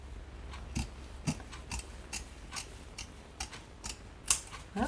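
Scissors snip through fabric for a tissue box cover, a steady series of quiet, crisp cuts in uneven rhythm, close and faint over a low background hum.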